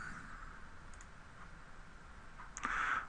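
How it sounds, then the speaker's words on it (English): A computer mouse gives a quick double click over a faint steady hum, the pair of sharp clicks landing close together near the end, with a fainter click earlier. "Go ahead and double click it to open it."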